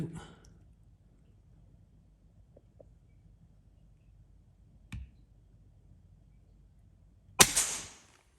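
Umarex SPA 100 .177 budget air pistol fired once, a single sharp crack near the end after a faint click, near and brief, in an otherwise quiet setting.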